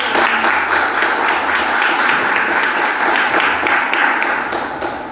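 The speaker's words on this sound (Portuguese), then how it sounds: "Querido, aplauda o Senhor." A church congregation applauds in praise, a loud, dense and continuous roar of clapping filling the hall, tapering slightly at the end.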